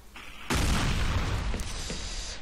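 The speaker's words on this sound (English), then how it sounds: "Now, satchel charges are remote explosives" A satchel charge remote explosive goes off in CS2D, a single loud close boom bursting in after a brief quiet lead-in, then a rumbling decay that fades slowly with no talking.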